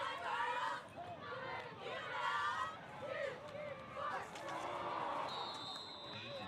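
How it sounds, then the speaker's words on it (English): Cheerleaders' overlapping chants at a middle school football championship game rise in rhythmic vocal bursts over a steady crowd murmur, some phrases clashing with others, with occasional louder shouts from the stands. "We got conflicting chants going on with the cheerleaders."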